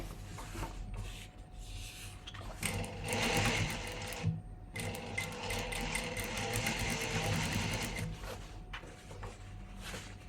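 A sewing machine stitches fabric in quick rhythmic runs, stopping and restarting several times with short pauses, close and fairly quiet, with no talk.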